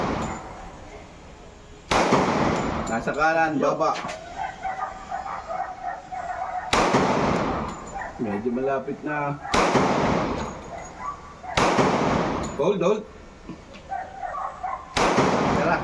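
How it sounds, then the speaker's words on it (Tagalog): Several loud .45 caliber pistol shots fire one at a time at an outdoor target practice, spaced a few seconds apart, with people talking between the shots. "Caliber 45 nga pala yung gamit namin dito."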